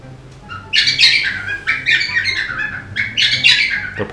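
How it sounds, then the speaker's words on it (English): A pet bird sings close by and loudly indoors, giving a run of squawky chirps and whistled warbles in irregular bursts over a low room hum. "my bird has decided to start singing in the middle of my YouTube video"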